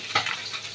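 Fish frying in oil in a pan, a brief soft sizzle with a small clatter near the start, close and quiet.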